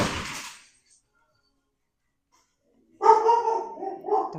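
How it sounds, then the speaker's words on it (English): Several dogs barking at home, a sharp burst of noise at the start, then a silent gap before a loud, close, varying stretch of barks and yips. "I don't know if y'all can hear that, but my dogs just went crazy."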